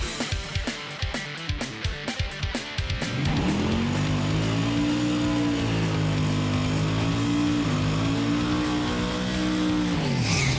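A 1988 Ford Mustang drag racing car idles with lumpy pulses, then roars loudly into sustained full-throttle acceleration that holds for several seconds, close and powerful.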